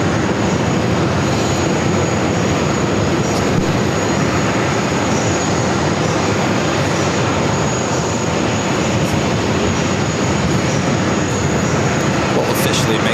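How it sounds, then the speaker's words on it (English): A Delta Airlines Embraer E175LR jet arriving at JFK from Chicago O'Hare, a steady broadband engine roar held at an even loudness throughout, with voices talking over it. "This is Delta Airlines E175LR coming in from Chicago O'Hare"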